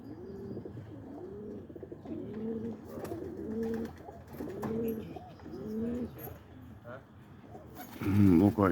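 Pigeons in a small roller loft coo close by in a steady run of rhythmic, throaty calls, with a few chirps and a voice near the end.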